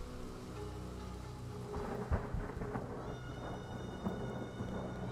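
Steady rain with rolling thunder on a battlefield in Total War Saga: Troy, a constant downpour under low rumbles that swell midway, with distant tonal game music.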